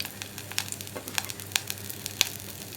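Sliced onions, green chillies and curry leaves sizzle in a pan for a Kerala moru curry, a quiet steady fry punctuated by sharp scraping clicks of a spoon stirring every half second or so.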